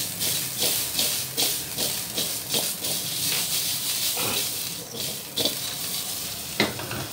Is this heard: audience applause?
no